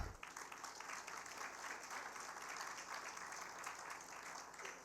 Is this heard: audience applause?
yes